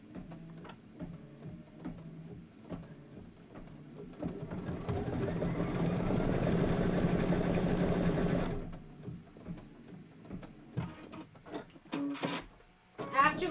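A sewing machine stitches a quilt block in a steady, fast mechanical whir that runs loud for several seconds. It stops abruptly, and quieter clicks and handling sounds from around the workspace follow.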